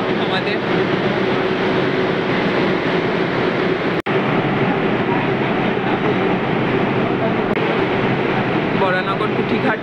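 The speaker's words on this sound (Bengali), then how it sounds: "লঞ্চ ছেড়ে দিল আমাদের।" A passenger launch crosses the Ganges from Baranagar Kuthighat toward Belur, its engine giving a loud, continuous droning rumble with water wash mixed in, steady throughout apart from one sharp click partway through.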